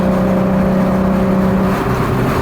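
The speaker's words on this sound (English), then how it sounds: "So that was rev limit in fifth." A 515 hp Audi A3 3.2 turbo sits at its rev limiter in fifth gear, making a loud, sustained engine drone that holds a steady pitch for a couple of seconds with no one talking.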